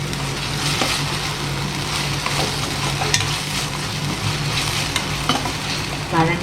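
Masala is stir-fried in a pan for a roadside-style mushroom dish, giving a steady close sizzle with repeated scraping and stirring clicks throughout and no talking.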